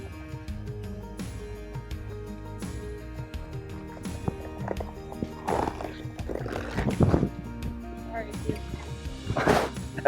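A pony being ridden during calm-down training of a hot horse, its hooves shuffling and thudding with bursts of snorting or whinny-like sounds, under steady background noise and talk.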